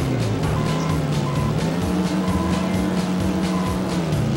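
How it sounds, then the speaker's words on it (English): A car driving in a Dukes of Hazzard racing video game, a loud, steady engine drone with faint tire noise, continuous throughout with no talk. "Now, JC's driving the Black Tilly"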